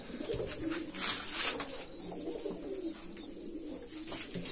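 Several pigeons coo softly and repeatedly during their moult, low throaty calls overlapping in a steady chorus, with faint chirps above and no talking.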